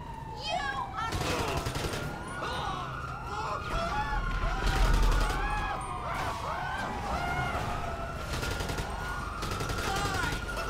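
Gunfire in GTA V: repeated bursts of shots and rapid fusillades crackle loudly over a wailing police siren, continuing throughout with dense layered noise.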